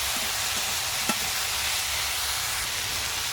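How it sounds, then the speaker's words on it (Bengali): Vegetables seasoned with salt fry lightly in a pan, giving a quiet, steady sizzling hiss with a single soft knock of stirring partway through. "সবজিগুলো হালকা করে একটু ভেজে নেব প্রথমে"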